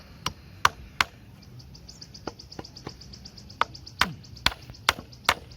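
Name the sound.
hammering a nail while building a wooden desk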